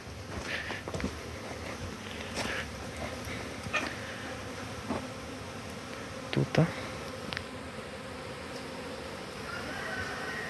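Honeybees swarm around their hives on the first cleansing flight of the new year, making a dense, steady buzz that fills the whole scene, with a few faint knocks and rustles close by.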